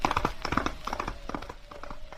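Horse hooves clip-clop in a quick, steady rhythm as a radio drama sound effect for a horse being ridden away, close and clear with no voices over it.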